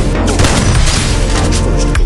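A grenade explosion in the Free Fire video game gives a loud, dense boom with crackling debris that fills the whole short burst at close range.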